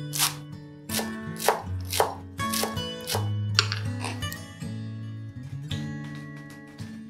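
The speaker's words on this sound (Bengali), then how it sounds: "কুড়ি গ্রাম ধনে পাতা ভালো করে ধুয়ে কুচিয়ে নিতে হবে।" Washed coriander leaves are chopped with a knife on a board in a series of sharp, close, fairly regular strikes, heard over soft background music.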